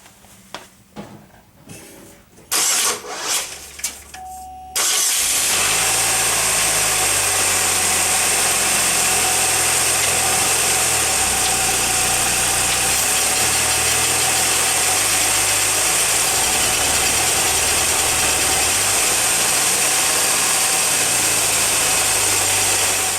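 After a few clicks and cranking sounds, a 2002 Pontiac Grand Am engine starts and settles into a steady, loud idle with a low, even hum, after a front wheel bearing hub replacement.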